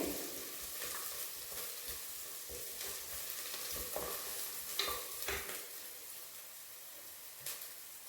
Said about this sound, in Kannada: ಈ ಟೈಮಲ್ಲಿ ಒಂದು ಮೂರು ಹಸಿಮೆಣಸಿನ್ಕಾಯಿ ಹಾಕ್ತಾ ಇದ್ದೀನಿ ನಂದು ಕೆಂಪಾಗ್ತಿದೆ ಎಲ್ಲ ಹಸಿಮೆಣಸಿನ್ಕಾಯಿ ಚೆನ್ನಾಗಿ ಫ್ರೈ ಆಗಬೇಕು